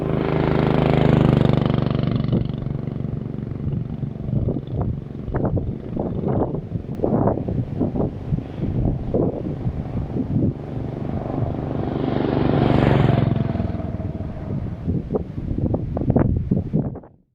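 A Buell motorcycle fitted with a 420cc Honda-clone industrial engine rides along a desert road. The engine's steady drone swells and fades as it moves, heavily buffeted by loud wind rush, with no voices.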